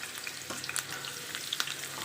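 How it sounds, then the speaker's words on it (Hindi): Chopped onions sauté in hot oil for a dal tempering, producing a dense close sizzle with light popping crackles and faint stirring, and no voices. "ये प्याज को हल्का सा हम करेंगे सौटे"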